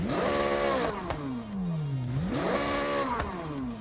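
A flat-plane engine in a Chevrolet Corvette C8 in Forza Horizon 6 revs up sharply twice, each climb followed by a falling wind-down, loud and close with no talking.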